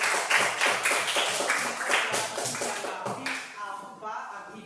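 Classroom audience clapping during a Pancasila lesson, a scattered, uneven patter of hands that thins out toward the end, with a voice speaking over it.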